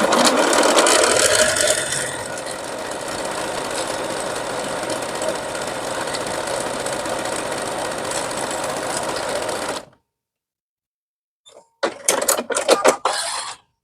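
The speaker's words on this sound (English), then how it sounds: "start in the upper diagonal corner and sew down to the bottom" Sewing machine stitching a half square triangle quilt block, a steady close mechanical whir and needle clatter running for about ten seconds, then silence and a few brief bursts of handling noise.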